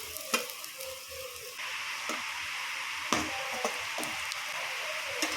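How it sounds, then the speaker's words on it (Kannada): Onions fry until brown in a pan for a hariyali chicken dish, giving a steady close sizzle with a few sharp stirring clicks and scrapes spread through it, and no one talking. "ಅದಕ್ಕೆ ಬ್ರೌನ್ ಕಲರ್ ಫ್ರೈ ಮಾಡ್ತು"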